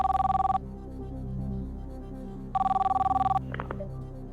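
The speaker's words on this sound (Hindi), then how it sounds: "कंप्यूटर जी, विकास सिंह को भोपाल में फोन लगाया जाए।" A telephone rings as a call connects on a television quiz show set, two clear bursts of ringing separated by a pause, loud and close, followed by a short electronic blip.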